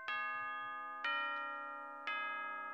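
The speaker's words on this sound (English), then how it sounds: "The bell chimes." Bell strikes three times at even one-second intervals, each clear, ringing tone bright at first and then fading, with no voices around it.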